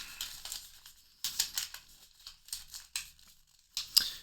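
A sheet of paper being folded up, giving quiet crinkly rustles in several short bursts separated by brief pauses, with no talking.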